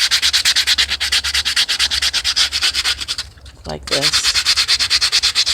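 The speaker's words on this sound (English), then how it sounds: "So I'll show you a brief of how I do my sanding." Seaweed rattle being sanded by hand with a small sanding tool, steady rapid back-and-forth scraping strokes, close and loud, pausing briefly while a voice speaks before the rubbing resumes.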